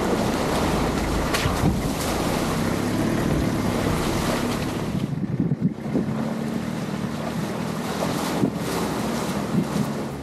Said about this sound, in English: on a windy day like this